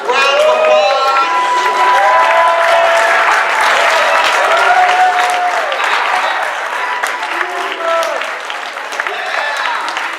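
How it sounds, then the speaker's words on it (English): Warm applause from the audience at a poetry recitation contest as the contestants come forward, loud and sustained clapping for about ten seconds, with scattered cheers and crowd voices mixed in and tapering slightly near the end. "I'd like to bring all the contestants up for a very warm round of applause."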